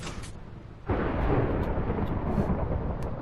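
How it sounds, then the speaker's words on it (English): Thunderstorm thunder in the Minecraft video game: a loud, sustained rumbling roll of thunder that swells in abruptly after a quieter start and keeps rolling steadily, with no voices over it. "has Minecraft thunderstorms been getting worse lately? Boy. Boom, boom, boom."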